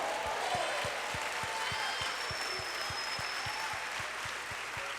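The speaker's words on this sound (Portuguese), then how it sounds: "Aplauda o Senhor." A church congregation applauding during a worship service, a steady wash of clapping that carries on throughout, with a regular low thumping beat running underneath.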